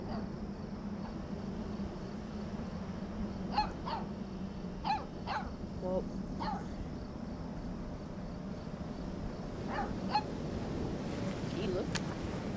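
A pup in the Life is Strange 2 video game barks several times in short, sharp bursts over a steady bed of outdoor ambience with insect-like chirping.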